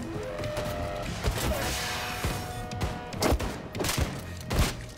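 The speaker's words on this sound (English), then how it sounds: "Stop shooting me when I'm trying to murder somebody!" Enemy gunfire aimed at the player in the video game Wolfenstein II: The New Colossus, a dense, continuous barrage of loud shots and impacts over a rumbling backdrop, with sharp bursts standing out near the end.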